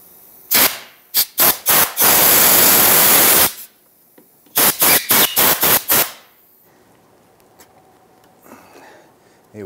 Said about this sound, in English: I'm gonna use a little compressed air inside here.